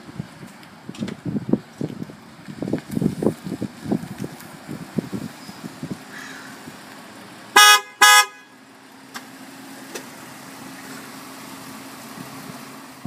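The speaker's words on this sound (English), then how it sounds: "I think my dad's here. He's honking." A car horn gives two short, loud honks in quick succession midway through, following a stretch of handling and rustling noise, with a low steady hum continuing afterward.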